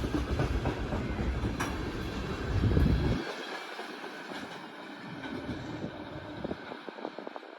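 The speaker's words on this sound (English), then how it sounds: "q317-31 westbound mixed freight train." A CSX westbound mixed freight train rolls past at close range, a loud rumble with clattering wheels that drops off sharply partway through and leaves a lighter, steady clickety-clack of passing cars.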